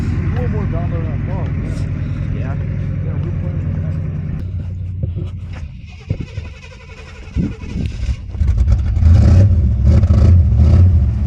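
A vehicle engine idles and rumbles after being pulled out of a ditch, steady at first, then revving louder near the end, with people talking over it.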